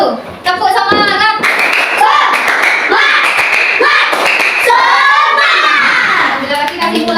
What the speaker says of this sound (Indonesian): sekarang kita tepuk semangat dulu. Tepuk semangat.